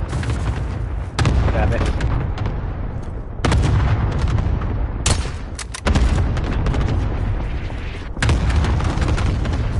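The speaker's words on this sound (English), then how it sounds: "Allied cluster strike." Heavy cluster-strike explosions boom repeatedly in Call of Duty: Warzone, with loud blasts rolling one after another and a player talking briefly over the barrage.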